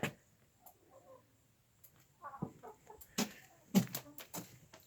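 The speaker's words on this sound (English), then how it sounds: "meet the 4 chickens, whom I haven't given a name yet" Four backyard hens cluck softly nearby, scattered low murmurs and a few sharper clucks in a quiet setting, with no talk.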